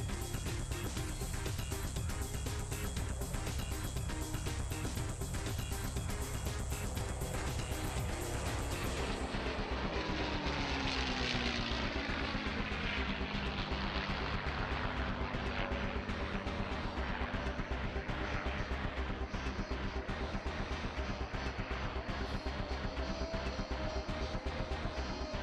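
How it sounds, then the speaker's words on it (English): A P-51D Mustang propeller fighter flying past at an airshow: a loud, dense engine roar that sweeps by with a falling pitch as it passes and then fades to a lower drone, no talk. "The beautiful P-51D Mustang."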